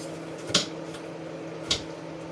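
Two sharp knife chops through yellow peppers on a cutting board, about a second apart, over a quiet steady hum.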